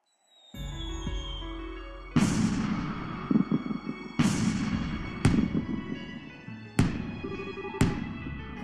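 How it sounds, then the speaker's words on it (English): Fireworks in the video game Trails in the Sky 3rd: a series of loud booming bursts, about six sharp explosive cracks spaced a second or two apart, each followed by a crackling decay over a steady background hum. "Wow, fireworks."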